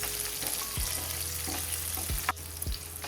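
Chili sautéing in a hot pan with ginger and garlic for a Kathiyawadi dhokli curry, giving a steady close sizzle with a few soft low knocks and one sharper clatter partway through.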